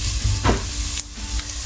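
Garlic browning in sesame oil gives a constant close sizzle broken by a few stirring scrapes and a soft clink, with no one speaking.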